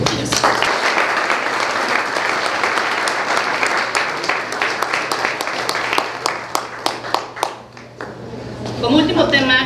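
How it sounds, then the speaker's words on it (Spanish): An audience at a stainless steel contest award ceremony applauds the winners: a full, sustained round of clapping that thins into scattered claps near the end, followed by a brief moment of speech. "Les pido un fuerte aplauso para ellos."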